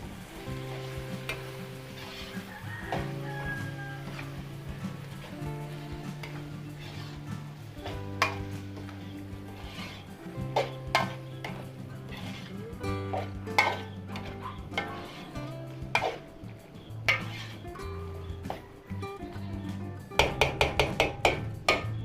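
Marinated meat for apretada stirred in a hot frying pan, a continuous sizzle broken by repeated scraping and clinking of the spoon against the pan, growing busier toward the end, with no talking.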